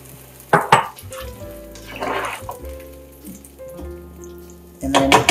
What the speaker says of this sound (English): Then add the vegetable broth.